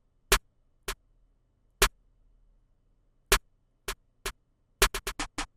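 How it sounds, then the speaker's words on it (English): Bouncy snare pattern programmed in FL Studio for a high-energy beat: sharp dry hits, sparse at first, then a quick cluster of rapid strikes near the end, played alone and clearly. "we're going to lay this like bouncy snare pattern that's going to sound like this."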